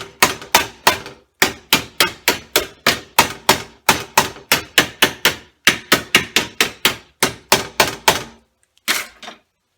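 Rapid, loud metallic hammer blows shaping sheet metal over a pipe for a car cowl patch, in steady bursts of several strikes, pausing briefly between groups, with a final few hits after a short gap.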